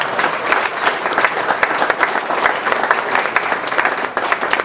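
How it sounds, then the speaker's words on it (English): Enthusiastic audience applause at a Ron Paul campaign event in the Redstone Room, loud and sustained, with dense overlapping claps forming a continuous roar from start to finish. "I'm hearing a lot of applause"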